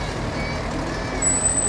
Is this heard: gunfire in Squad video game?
no